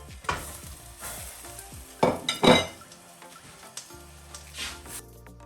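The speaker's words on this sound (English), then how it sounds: "Once the milk mixture starts to bubble up, we are going to add the prawns back in the pan." Tiger prawns simmering in a bubbling creamy milk mixture in a pan, with a soft steady sizzle broken by several louder stirring scrapes and clinks of a utensil against the pan, close by and with no talking.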